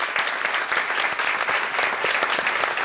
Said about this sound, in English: I'd like to ask you to join me in giving all 4 candidates a big round of applause.